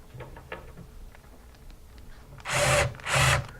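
A power drill with a 1/4 inch bit snugs down a screw on a mounting bracket for a DC board in a power center, sounding as two loud, close whirring bursts after quiet handling noises.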